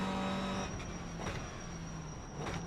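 A race car engine in a video game drones steadily with a high whine at Brands Hatch, shifting pitch as it accelerates, heard alone at moderate volume.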